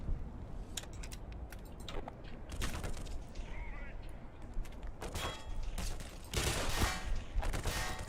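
Video game gunfire aimed at the player: scattered bursts and sharp shots rattle through a busy game soundscape, loudest toward the end, mixed with a voice talking over the action.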